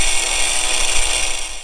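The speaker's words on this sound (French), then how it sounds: "je vais déjà commencer à disquer" A small angle grinder cuts through metal, a steady, loud, high-pitched whine that holds without a break and with no voices over it.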